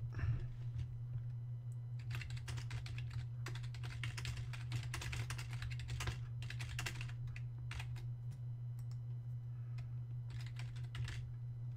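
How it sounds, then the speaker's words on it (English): Someone types on a computer keyboard, with quick bursts of clicking keystrokes separated by short pauses over a steady low electrical hum. "I'm just typing something out, guys."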